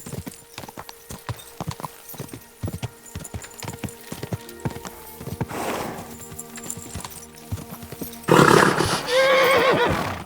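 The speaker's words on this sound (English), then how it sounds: "Easy, good horse." A horse in the medieval game Kingdom Come Deliverance 2 gallops with rapid, rhythmic clip-clopping hooves, then lets out a loud, close whinny near the end.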